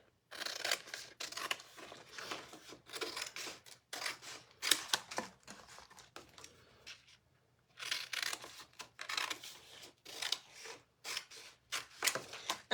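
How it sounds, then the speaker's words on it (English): Scissors snip through sign pieces along drawn lines, a close run of crisp cutting and rustling strokes in uneven bursts with one brief pause midway. "I'm just going to go ahead and cut these along the little lines."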